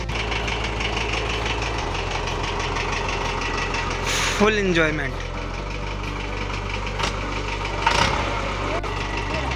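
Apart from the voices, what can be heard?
tractor engine running on a farm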